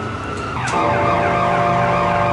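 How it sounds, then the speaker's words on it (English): A siren wails in the background, its pitch sweeping up and down repeatedly, rising in loudness partway through over steady traffic rumble. "as you can hear in the background there, that is a siren"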